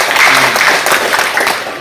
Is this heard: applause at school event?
yes